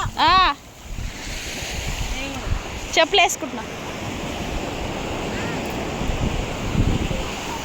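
Big waves roll in and break onto Singarayakonda beach in Andhra Pradesh, a continuous rushing surf with swelling surges. People talk over it in short bursts near the microphone.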